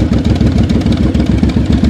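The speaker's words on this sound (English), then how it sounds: "your motorcycle's loud, so find the sweet spot first" A loud motorcycle engine runs in first gear during slow-speed riding practice, with a close, steady, throbbing low rumble throughout.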